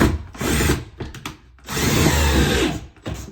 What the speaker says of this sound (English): I'm gonna push back so there's pressure on it against the wall, so it's nice and tight, and then I can screw it in